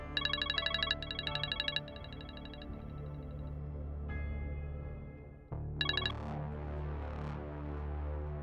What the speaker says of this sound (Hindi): अरे राजी का फोन आ रहा है, उठा लो यार